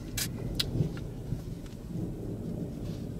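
Thunder during snowfall at about 9,000 feet in the mountains, a low continuous rolling rumble under faint crackles and a couple of brief clicks, distant and steady throughout.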